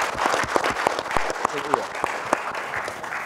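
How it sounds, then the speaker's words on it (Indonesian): Seminar audience breaks into sustained applause, many hands clapping in a dense, steady patter with a few sharper claps standing out, filling the hall evenly throughout. "mari kita berikan aplaus yang semeriah-meriahnya"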